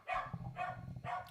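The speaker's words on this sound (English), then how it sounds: "I apologize if you can hear all the dogs barking" Several dogs bark at a crowded costume and cosplay convention, sounding as three fairly evenly spaced barks over a busy background murmur. They are moderately close but not loud.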